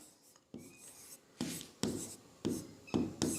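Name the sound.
writing on paper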